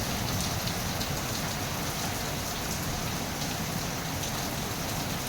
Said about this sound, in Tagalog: Wala tayong customer kasi ang lakas ng ulan.